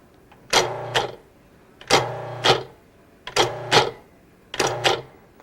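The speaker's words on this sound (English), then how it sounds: "Use the pulse control to chop." A Cuisinart food processor pulses four times, each pulse a short whirring burst of chopping, evenly spaced with brief quiet gaps in between.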